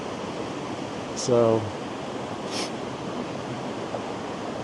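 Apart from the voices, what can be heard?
waterfall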